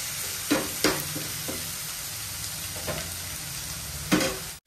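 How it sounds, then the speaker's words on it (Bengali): Boiled lentils sizzle in a pan of fried onion, ginger-garlic paste and spices, with a steady crackling fry broken by a few sharp scraping stirs of a spatula, close up and with no talking. "মশলাটা ভাজা হয়ে গেছে, এর মধ্যে ডালটা দিয়ে দেবো।"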